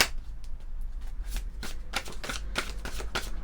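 Tao oracle cards are shuffled by hand in a series of crisp, close riffling and slapping bursts at an uneven rhythm, with no talking.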